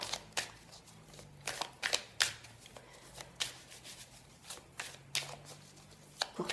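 Tarot cards shuffled by hand for a reading, close, quiet riffling bursts and crisp flicks in an irregular rhythm, with soft gaps between shuffles.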